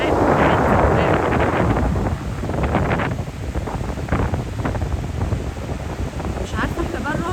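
Steady wind and surf roll along the Port Said beach on a calm autumn day, a constant broadband rush with gentle swells, heavy wind buffeting the microphone throughout.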